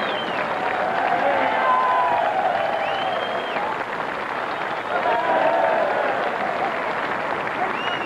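A racecourse crowd at Cheltenham cheers and applauds a winning horse, a broad sustained roar with clapping in the background while a commentator talks over it.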